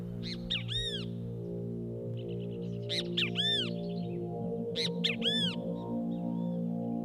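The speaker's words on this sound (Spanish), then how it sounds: "La presencia del gato produce inquietud entre las aves." Highland birds call in agitation as a cat prowls nearby, sharp repeated caws in three clustered bursts, each a quick series of harsh calls, over a steady low background hum with no voices.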